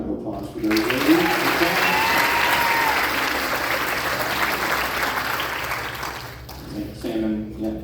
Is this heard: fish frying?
no